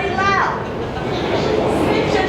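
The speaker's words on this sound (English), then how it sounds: "That is the sound of your tram coming back down." A Gateway Arch tram in St. Louis descending, a loud continuous rumble and mechanical whine filling the space inside the arch, with people speaking over it.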